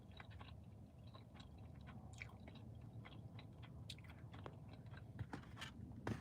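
Close, quiet chewing of food wrapped in plantain, with soft wet smacking and small crunchy bites repeating steadily, louder at the end.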